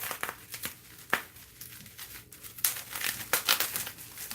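Taped bubble wrap crinkles and tears close up as it is pulled off an oracle book, with irregular rustling bursts and sharper rips of tape.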